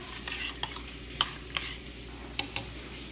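Lentil and barley chili stirred in a pot on the stove, with soft scraping strokes over a faint steady sizzle and a few sharp spoon taps against the rim.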